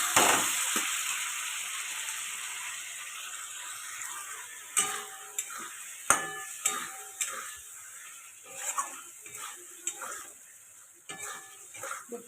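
Rohu fish curry with potatoes sautés in a pan with a soft continuous sizzle, while a metal spatula scrapes and taps the pan in irregular clinks, close and alone.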